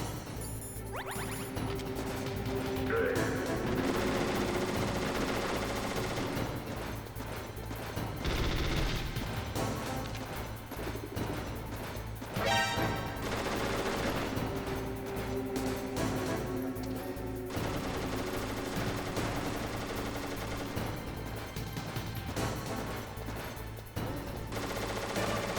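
Gunfire in Metal Gear Solid, repeated bursts and sharp shots mixed with crashes and impacts over a dense layer of game music, loud and continuous across the stretch, no talk.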